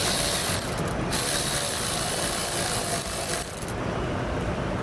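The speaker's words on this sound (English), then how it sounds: "So we're gonna use a 7/16 socket and wrench to remove these components." A 7/16 socket wrench ratchets steadily while removing components from a 2015 fifth wheel RV's leveling system, the rapid clicking running continuously and close, pausing briefly near the end.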